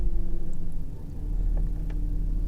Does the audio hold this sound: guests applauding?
no